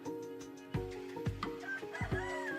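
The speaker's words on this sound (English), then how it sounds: "Roosters can get extremely noisy in the morning" A rooster sounds off in a few loud, close bursts of crowing and clucking with harmonic tones, standing out over a steady background.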